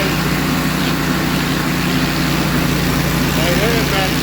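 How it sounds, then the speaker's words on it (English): Steady engine drone from a Bandit ZT1844 tracked stump grinder cutting a stump, a constant low rumble running loud and unbroken throughout, with faint voice-like tones near the end. "You can hear the engine."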